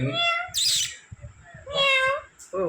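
Several high, harmonic meow-like calls from a pet parrot that imitates a cat, close and fairly loud, coming in short bursts with quieter gaps between them.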